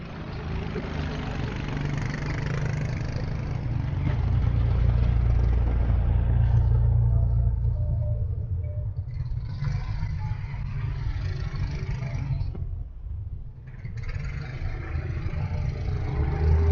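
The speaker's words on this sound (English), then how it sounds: "Today's a Saturday, a lot of traffic." Saturday street traffic in San Miguel de Allende, Mexico, where buses pass: steady engine rumble and idling cars close by, swelling and easing as vehicles move past, with a brief lull near the end.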